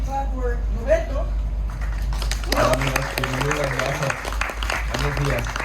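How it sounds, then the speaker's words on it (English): An audience applauds the chocolate maker Roberto on a Cozumel shore excursion, with scattered clapping running beneath people talking nearby throughout. "I wanna ask you to give a big clap for Roberto"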